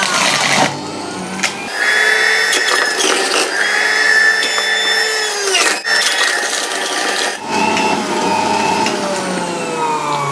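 An electric juicer with attachment presses pumpkin into juice, its loud motor whining and grinding steadily at close range, with brief dips and surges in pitch as the pieces feed through.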